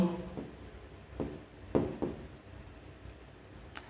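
Chalk or marker strokes on a board during a physics lesson, a few short scratchy taps and swipes at an uneven pace, fairly quiet in a room.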